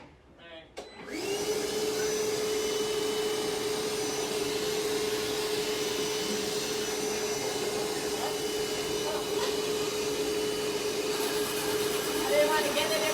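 A vacuum cleaner runs loud and steady while a cabinet is drilled for an under-cabinet puck light, its whine starting abruptly after a second and holding for the rest of the clip.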